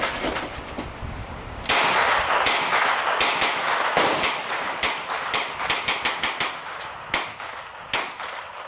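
Repeated gunshots ring out at an outdoor shooting range, sharp loud cracks coming singly and in quick bursts with short gaps between them, without talk.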